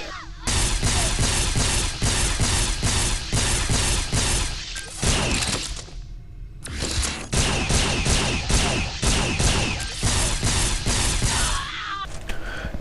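Beamer pistol firing in the shooter game Planetside, a loud, dense run of rapid shots nearly throughout, briefly pausing midway before resuming.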